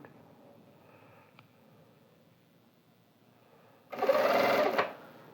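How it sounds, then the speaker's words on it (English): Sewing machine stitching along the edge of a piece of fabric: after a quiet stretch, a single loud close burst of about a second of steady machine whirring. "And we are going to sew the edge of this fabric."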